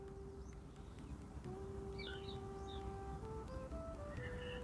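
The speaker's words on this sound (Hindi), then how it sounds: "आस-पास चिड़ियों की आवाज़ें आ रही हैं" Faint, distant bird chirps scattered over quiet outdoor background hum, a few short calls clustered in the middle.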